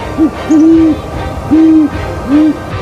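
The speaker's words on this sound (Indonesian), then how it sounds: "Suara paling khas adalah suara mendengung" An owl hoots several times, low mellow tones spaced about a second apart, over a faint background hum.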